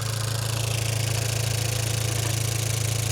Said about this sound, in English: Oh yeah, that was some valve train noise.